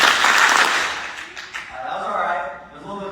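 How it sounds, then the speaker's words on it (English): An audience at a school district keynote claps together on cue, a loud burst of applause that fades out within about a second and a half, leaving a quieter room murmur behind it. "When I say go, I want everyone here to give me 3 claps."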